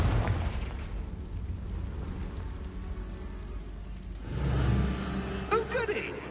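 A Confringo explosive curse detonates in Hogwarts Legacy, a heavy booming blast landing midway through a rumbling game soundscape, followed by crackling debris and a short magical whoosh.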